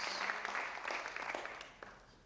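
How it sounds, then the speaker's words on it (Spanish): Audience applause welcoming guests at a church gathering, a dense crackling clatter of many hands that stays steady, then tapers off toward the end, with no talk over it. "le damos un aplauso de bienvenida"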